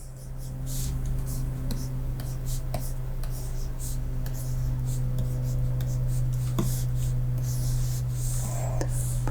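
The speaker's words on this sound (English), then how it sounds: "I'll write it down for you." Pen scratching on paper in short bursts of strokes with brief pauses, close and fairly quiet over a steady background hum.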